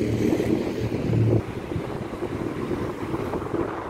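Strong wind blowing outdoors on a hot sunny day, a loud rough rumble buffeting the microphone and easing somewhat partway through.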